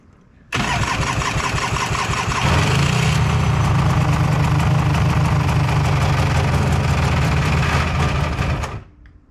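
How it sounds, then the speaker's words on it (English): A Polaris Xplorer 400 two-stroke ATV cranks and catches within a second, then runs loud and close with a rapid buzzing idle that rises into a steady rev before cutting off. "So let's see if this thing starts now."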